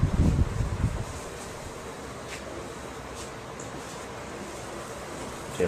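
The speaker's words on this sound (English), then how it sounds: "That fan's making a lot of noise on that video camera." A fan blowing air into a video camera's microphone in a workshop, a steady broadband whoosh with low rumble, louder buffeting bursts at the start and end.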